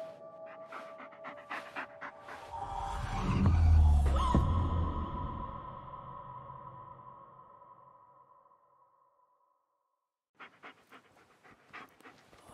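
A dog pants heavily in the Blair Witch video game, a rough breathy rhythm that swells to a loud peak near the middle of a dark forest scene, then fades under a droning ambience before a short silence and faint noises resume.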